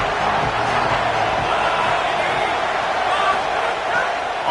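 A loud stadium crowd at a college football game involving Georgia roars steadily under a commentator's voice, a dense broadband wall of cheering that holds for several seconds without a break.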